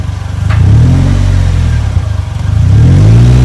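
Polaris Slingshot engine revving up loudly nearby, a low throaty roar that rises, dips briefly, then climbs again with no voices.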